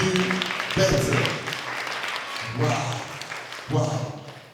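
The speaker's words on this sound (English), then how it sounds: "A round of applause again." Audience applause at a live storytelling show, a moderate wash of clapping heard beneath someone speaking over it, with the talk dominating in bursts.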